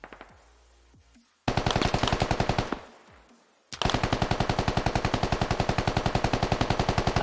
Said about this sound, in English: No idea what these two are shooting at.